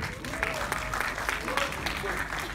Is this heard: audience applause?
yes